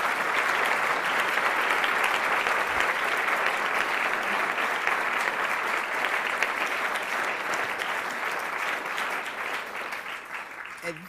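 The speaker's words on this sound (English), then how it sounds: "that applause is well deserved." Sustained applause from an audience at an event, a dense, steady wash of clapping that carries on without a break for several seconds.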